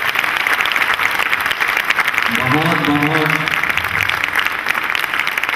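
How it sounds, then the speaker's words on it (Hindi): A large crowd at a religious pilgrimage gathering claps loudly and continuously, a dense wash of applause running the full length while a voice speaks over it midway. "एक बार जोरदार तालियों से सभी का"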